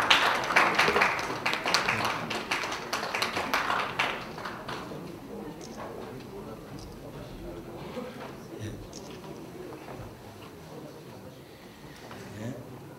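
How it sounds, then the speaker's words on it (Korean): Applause from an audience at a police martial arts federation's 10th-anniversary general assembly and appointment ceremony, loudest in the first four seconds, then fading into a softer, scattered clatter with murmuring voices. "박수 부탁드립니다"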